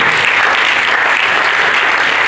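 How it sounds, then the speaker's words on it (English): A conference audience giving an ambassador a clapping ovation, dense, loud and steady applause from a large crowd filling the whole moment without a break. "may we profusely appreciate our worthy ambassador with a clapping ovation"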